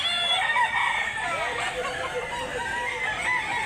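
A rooster crows at a chicken market in Mantalungon, Barili, Cebu, with other fowl clucking around it. The calls are drawn out and sit over a busy market background.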